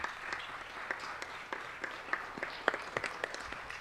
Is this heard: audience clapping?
yes